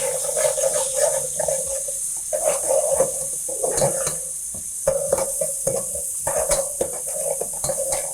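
A teaspoon of ginger-garlic paste hits hot oil for an Arabic rice dish, giving a steady close sizzle with repeated spoon scrapes and clinks against the pan in uneven bursts, without any talk.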